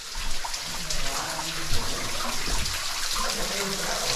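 Water trickles and splashes steadily through mineral formations inside a large cave, a continuous close wash of dribbling flow with soft irregular surges.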